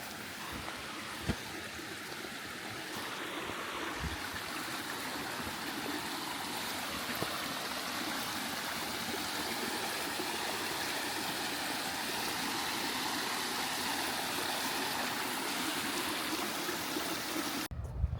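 Continuous rushing water flows steadily nearby along the Appalachian Trail, a broad even wash of sound that stays constant throughout with no talking.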